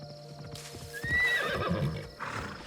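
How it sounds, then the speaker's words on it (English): A horse in the video game Assassin's Creed Shadows gives a rising and falling whinny amid clip-clopping hooves and game ambience, moderately near but fairly quiet. "Where'd the horse go?"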